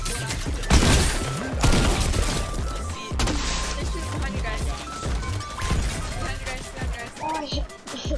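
Rapid gunfire in a multiplayer shooter video game, with sharp repeated bursts and shots throughout under loud, excited talk from players.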